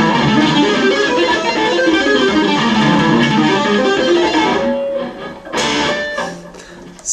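Multi-finger tapping across all guitar strings, giving a dense, continuous cascade of ringing notes with an effected tone that stops suddenly near the end, followed by a few softer plucks.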